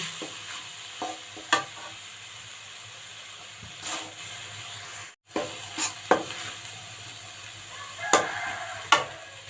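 Thai curry paste sizzles and fries in a pan for a fish curry, with a steady hiss under repeated scraping strokes of a utensil stirring the paste, heard close and without talking.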